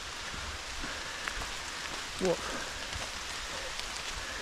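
Steady rain falls on a rainy, gloomy day, a soft continuous hiss of drops in the background, faint and even, with a brief exclamation from a voice partway through.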